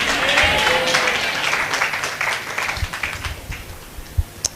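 Audience applause at a Hindi-language religious sermon, loud dense clapping at first that thins out and tapers into scattered individual claps toward the end.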